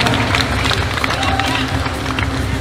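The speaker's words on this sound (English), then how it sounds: "let's give a round of applause to our two boxers" Applause and crowd noise for two boxers after a twelve-round title eliminator bout: dense, continuous clapping and hubbub from a large audience, steady throughout.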